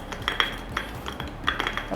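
Spoon clinks against a jar and dish while scooping instant coffee for dalgona coffee, a series of close, light metallic taps and scrapes with no talk.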